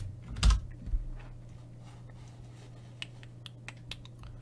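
Computer keyboard typed on in a few sparse, light keystrokes spaced irregularly after a louder thump near the start, close and quiet over a steady low electrical hum.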